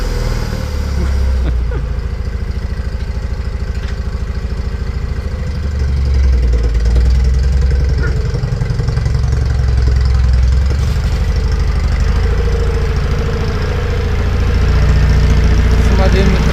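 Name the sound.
homemade tractor engine idling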